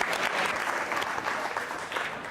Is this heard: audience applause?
yes